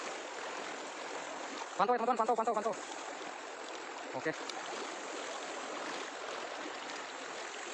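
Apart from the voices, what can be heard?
wide river flowing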